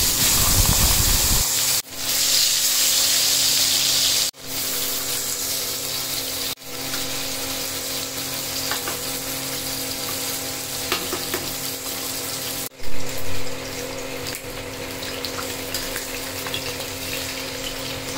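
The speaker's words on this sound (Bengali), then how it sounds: "এখানে তেল গরম হয়ে গেছে, এবার এক এক করে মাছগুলোকে ফ্রাই করে নেব।" Fish sizzles and spits in hot oil in a pan, a loud, dense frying hiss that runs continuously, with a few brief cuts and a short flare of crackling partway through.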